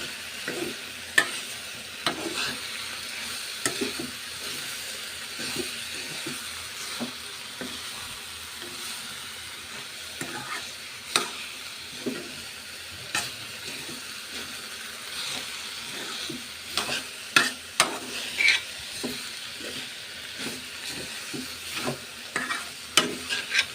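Bitter gourd sizzles steadily in a frying pan while a spatula scrapes and stirs in repeated clattering strokes, the sizzle constant and the stirring irregular, with no one talking.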